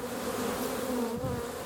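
Honey bees buzz at an apiary on a sunny spring day after poor weather, a continuous close swarm hum filling the moment with no voices.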